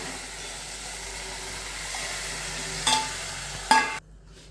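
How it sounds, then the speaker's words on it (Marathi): Water poured into a sautéing bean curry made with lablab beans and ground peanuts, giving a steady sizzle with stirring scrapes and two sharp bursts near the end before it cuts off. "आणि मग ते परतून त्याच्यात हे पाणी ओतून घ्यायचं आहे."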